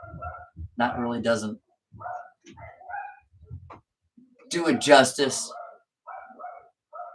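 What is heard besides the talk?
dogs barking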